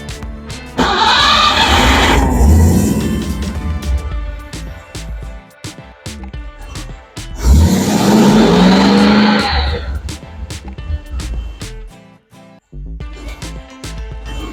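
A Triumph TR8 engine cranks and fires, then revs and runs with loud sweeping rises in pitch, heard close with no talking.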